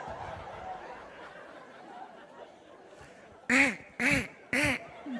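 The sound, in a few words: comedian imitating a Donald Duck voice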